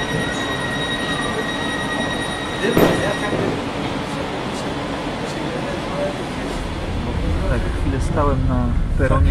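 A train pulls into a Polish station platform with steady rail rumble, a loud clank partway through, and wheels squealing toward the end. People talk over the noise.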